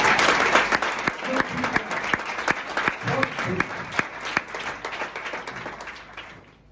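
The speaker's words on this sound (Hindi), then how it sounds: "आई थिंक उनके लिए एक जोरदार ताली हो जाए।" A hall audience at a lecture bursts into loud, thick applause that gradually thins into scattered individual claps and fades out near the end.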